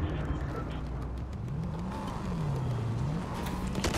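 A vehicle drives in the Fortnite video game, its engine tone rising and falling as it speeds up and slows, a continuous moderate whir with light clicks over a low background rumble.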